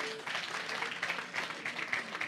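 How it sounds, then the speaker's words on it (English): An audience at a heritage commemoration event applauds, a steady wash of many hands clapping heard at moderate distance for a couple of seconds. "Let's give them another round of"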